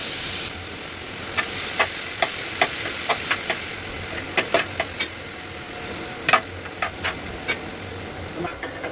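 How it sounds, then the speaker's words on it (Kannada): Washed bitter gourd pieces fry in a spoonful of oil in a pan, giving a steady close sizzle broken by a series of sharp clicks and scrapes as the pieces are stirred. "ಮೇಲೆ ತೊಳೆದು ಇಟ್ಕೊಂಡಿರುವಂಥ ಹಾಗಲಕಾಯಿನ ಹಾಕಿ ಫ್ರೈ ಮಾಡ್ಕೋಬೇಕು ಚೆನ್ನಾಗಿ"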